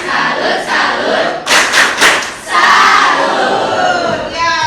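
A school class led by their teacher chants and claps a tepuk salut cheer, rhythmic bursts of group clapping and shouted voices close by, rising to a loud crowded peak midway before settling.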